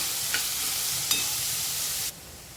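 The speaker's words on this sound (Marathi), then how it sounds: "हे सर्व आपण मिक्स करून घेऊया" Finely chopped fenugreek leaf bhaji stirred in a pan, a steady soft sizzle broken by a couple of brief scraping clicks of the spoon, close and fairly quiet, cutting off abruptly near the end.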